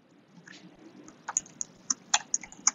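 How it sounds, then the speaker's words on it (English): Keys clatter on a computer keyboard as text is typed, a quiet start building into a run of sharp, irregular taps, close and clear against a soft room background. "I'm going to write my text here"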